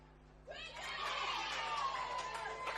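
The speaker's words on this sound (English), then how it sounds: "And the crowd is back" Spectators at a Billie Jean King Cup Africa Group III tennis match, Zimbabwe against Namibia on center court, break into a swelling roar of cheers and shouts that holds steady, faint and distant.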